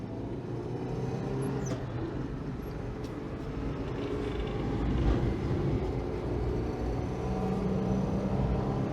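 A Citroen GSA driving along the A48 toward Carmarthen, a steady low engine and road rumble that swells slightly midway, continuous and close with no talking.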